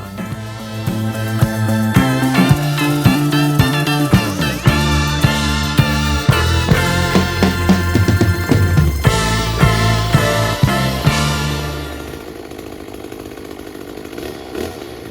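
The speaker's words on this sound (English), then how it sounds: "in order to start cutting with the chainsaw" A chainsaw cutting a tree trunk roars loudly and close, revving up and down in pitch, then drops to a lower idle near the end.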